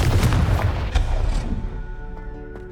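A Confringo blasting spell explodes in Hogwarts Legacy with a loud booming blast at the start, then the rumble decays over about two seconds, with a couple of faint crackles trailing at the end.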